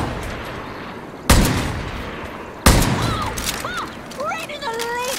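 Two sharp, loud gunshots crack a second apart in Far Cry New Dawn, popping balloons, followed by chirping, whistling game-world birds over a steady outdoor ambience.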